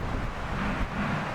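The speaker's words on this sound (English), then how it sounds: "It's a little windy here." Steady wind blows across a campsite in Alberta, a dense, even rush buffeting the microphone with no other sounds.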